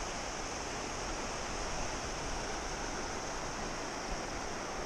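A river runs at the Termas Huife hot springs near Pucón, Chile, giving a constant broadband rushing of flowing water, steady and fairly close, with no speech or other sounds.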